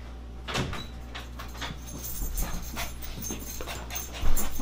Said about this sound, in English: My dogs are out of control.